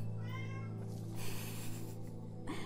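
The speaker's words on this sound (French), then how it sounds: "Arrête de faire miaou!" A cat meows in the mobile puzzle game Monument Valley 2, a short close call over a steady hum of game music and ambience.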